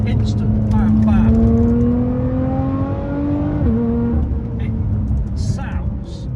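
Lotus Evora 400 engine revving loudly with rising and falling harmonic tones as paddle downshifts blip through the gears, sustained close under light road noise and fading near the end.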